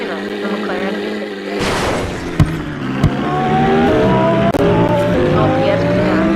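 A McLaren car in a Roblox vehicle simulator game, its engine droning steadily and rising in pitch as it accelerates, with a couple of sharp thumps along the way.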